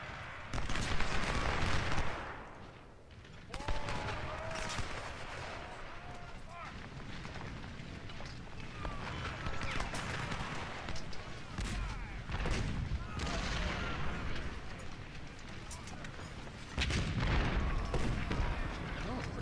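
Artillery and rifle fire from the Civil War strategy game Ultimate General: Civil War, a dense, continuous rumble of booming cannon and crackling musketry that swells and fades throughout, with someone talking over the battle.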